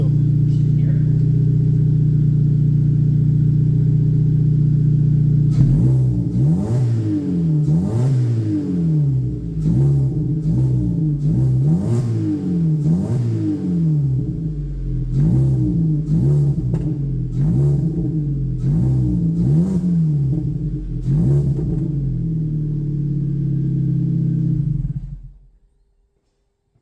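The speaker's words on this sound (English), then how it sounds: "I'm going to leave the camera set up and give it a bit of a rev" A road-legal Days of Thunder NASCAR replica car idles with a loud, deep rumble, then is revved repeatedly in quick rising and falling bursts, close to the microphone, before the engine cuts off abruptly at the end.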